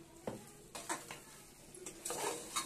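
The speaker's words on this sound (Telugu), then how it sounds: "వేసుకొని కొంచెం బాగా కలుపుకుందాం." Mutton stirred in a pot with blended fried onions for an Andhra-style curry: a few scraping, clinking spoon strokes against the metal pot, close and moderately loud, with no one talking.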